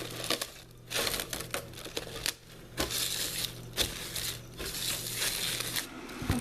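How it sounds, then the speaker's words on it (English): Plastic wrap crinkles and crackles as it is stretched over a bowl of rising cinnamon roll dough, a steady close rustle broken by several sharp snapping crackles. "I'm going to cover this with plastic"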